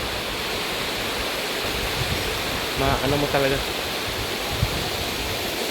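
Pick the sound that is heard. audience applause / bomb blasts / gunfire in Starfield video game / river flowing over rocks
river flowing over rocks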